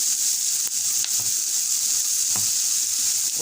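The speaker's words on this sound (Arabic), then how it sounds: "وهنزل بقى بعد كده بقطع اللحمه" Pieces of meat dropped into a hot pan for a tagine fry with a steady, close, loud sizzle, broken by a few soft clinks or stirs, with no voices.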